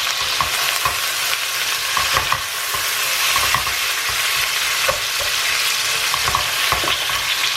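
Onions hit hot oil fragrant with bay leaf, cardamom, cinnamon and cloves for Kashmiri mutton rogan josh, giving a loud, dense sizzle with bursts of stirring and scraping, close up and continuous, with no speech.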